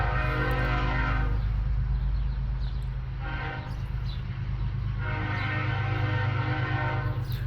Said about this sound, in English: I've gotten used to trains. It's actually kind of a comforting